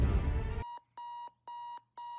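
An alarm clock in a TV episode, ringing in a steady repeating pattern of electronic pulses, each a bright tone lasting about a third of a second, after a burst of noisy background sound.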